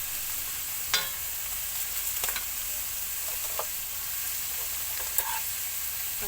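Bopis with tofu cooking in a pan, a steady low sizzle with occasional light clinks and stirring taps, heard close without any talking.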